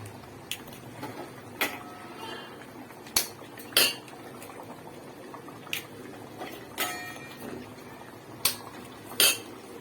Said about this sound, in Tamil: இதில் நாங்கள் முட்டை உடச்சி போட்டுக்கலாம்.